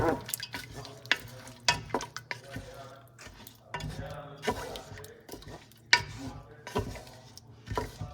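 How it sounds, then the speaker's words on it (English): Almonds roasting in a pan while being stirred, with repeated scraping and clinking of a utensil against the pan and a low background hum throughout. "So we are roasting almond right now"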